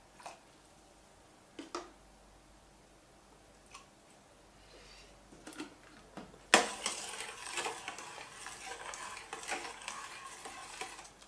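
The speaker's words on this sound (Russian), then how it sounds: "Размешиваем." Quiet scattered clicks give way to a sudden onset of soft swishing and scraping, a utensil stirring a vinegar-and-water pickling marinade for jalapeños in a pot, continuing steadily.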